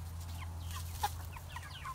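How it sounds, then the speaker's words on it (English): A rooster clucks in short, scattered calls over a steady low hum, with one sharper, louder note near the middle and softer clucks around it. "He's a rooster."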